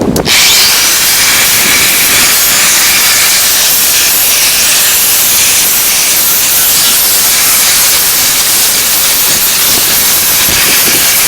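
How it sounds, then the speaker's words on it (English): A Milwaukee angle grinder fitted with a 60 grit sanding disc runs against a wooden sign, giving a loud, steady, unbroken hissing whine close by for the whole stretch. "But this is the angle grinder right here. It's a Milwaukee."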